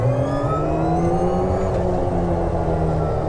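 A Polaris electric UTV accelerating in sport mode, its motor giving a steady rising whine over rumbling tire and drivetrain noise, loud and close throughout.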